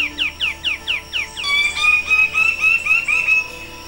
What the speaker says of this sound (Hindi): और रंगारंग परिंदों की चहक महक से